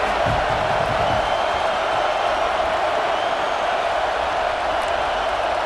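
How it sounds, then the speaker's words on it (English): A stadium crowd in College Football 26 roars continuously at a loud, steady level during a third-down play in a high school versus Michigan game. "3rd down and the crowd really getting into it."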